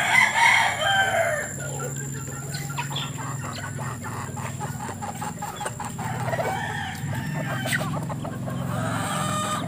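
Chickens being fed at a backyard, with a rooster crowing among a steady stream of clucks and farmyard noise, loudest at the start and continuing without pause.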